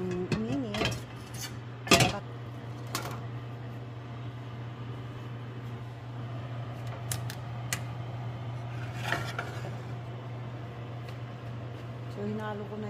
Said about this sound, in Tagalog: So, hinalo ko na yung sili dyan kasi yan ang magkakasabay.